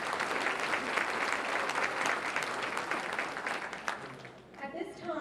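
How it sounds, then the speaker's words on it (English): Audience applause for graduates at a 2017 chamber of commerce banquet, a steady dense roar of many hands clapping for about four seconds, then tapering off as a voice begins speaking near the end. "Thank you so much, graduates. Another round of applause."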